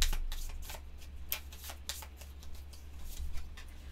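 A deck of cards for the Sentinels of the Multiverse board game being shuffled up close, a series of crisp riffling bursts and soft flicks against a quiet background.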